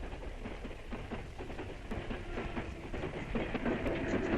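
A train rumbles steadily with rattling, clattering noise over a broad roar, growing slightly louder toward the end.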